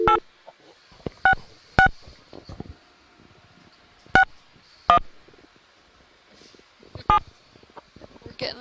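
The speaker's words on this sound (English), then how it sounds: "we can hear the phone dialing out." A telephone dials out during a deep-sea ROV dive broadcast, giving a sparse series of short DTMF tone beeps at irregular intervals over quiet background noise and faint murmuring.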